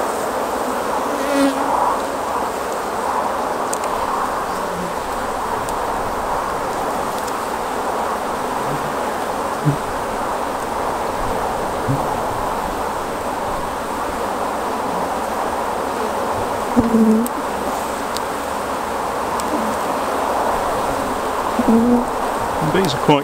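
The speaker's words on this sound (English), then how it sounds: "The bees are quite calm, they're not aggressive at all." A dense, steady hum of many honey bees buzzing close by, continuous throughout with a few louder passes near the listener.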